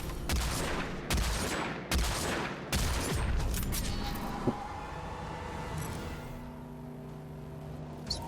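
Shotgun blasts in the stealth game Hitman: Absolution: four loud, sharp shots in steady succession over the first three seconds, each with a booming tail, then a lower din of game ambience with one smaller thud.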